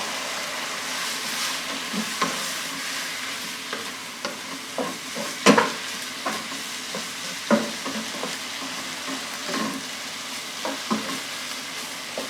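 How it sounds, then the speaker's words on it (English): Meat simmers and bubbles in a pan of boiling liquid with garlic, a steady close sizzle broken by clattering stirs and utensil knocks. "right now all I'm really doing is boiling the meat"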